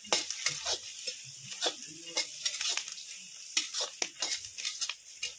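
Turmeric being stirred into a poha mixture in a pan over a village wood-fired stove, with repeated scraping strokes of a spoon over a soft, steady frying sizzle.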